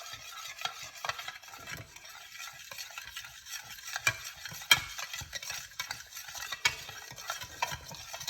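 Cayenne pepper is stirred into olive oil and lemon, heard as soft rapid swishing with small clinks of a utensil against the container, quiet and close, with no talking.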